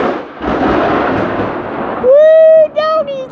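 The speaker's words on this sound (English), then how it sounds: "We are having a thunderstorm." Thunder during a nearby thunderstorm rolls as a low, broad rumble for a couple of seconds. A person then lets out a loud whooping exclamation.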